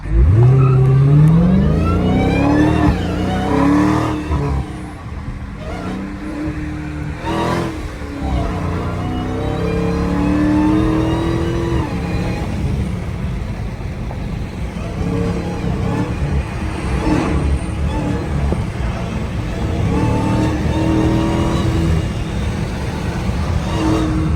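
A Dodge Hellcat engine roars loud and close on a Chicago highway, climbing sharply in pitch at the start, then holding a heavy sustained drone with gear-change dips.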